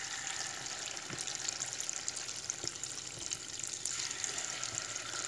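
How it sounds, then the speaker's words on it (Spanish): Quiet, continuous sizzling of corn fritters frying in plenty of oil, with faint soft crackles and pops scattered throughout. "Ahí ya se va friendo."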